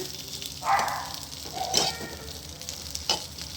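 Green chillies sautéing in a pan to make spiced buttermilk chillies, a light sizzle under a few brief spatula scrapes and taps, fairly quiet and close.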